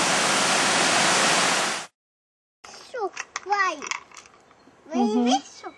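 A waterfall heard from below, beside a deep cave under the falling water, roars as loud steady broadband rush for about two seconds, then cuts out before a child and an adult talk.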